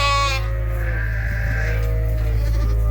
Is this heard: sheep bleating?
yes